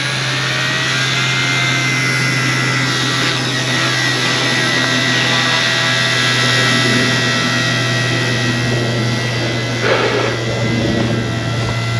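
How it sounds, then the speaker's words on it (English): A small RC collective pitch helicopter flies close by, its motor and rotor whining in a steady, loud drone with sustained tonal hum throughout and slight shifts in pitch, with no voices. "This is a tough little helicopter."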